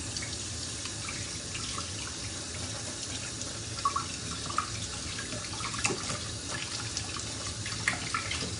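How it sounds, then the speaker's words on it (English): Water runs steadily from a kitchen tap while sticky hands are rinsed, a continuous close splashing hiss with small uneven spatters and no talking. "Let me rinse off my hands real quick because they're super, super sticky."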